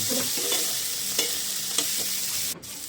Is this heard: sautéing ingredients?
yes